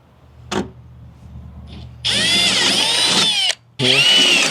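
A power drill with a 23/64 bit bores a hole in a Jeep Gladiator body for fender flares, whining loudly in a sustained run, pausing briefly, then spinning up again, with a faint tap beforehand.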